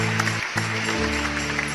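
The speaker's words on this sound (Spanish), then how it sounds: "darle un aplauso fuerte al Dios Todopoderoso" Loud congregational applause in a church during a Christmas sermon, continuous clapping mixed with sustained musical tones from instruments.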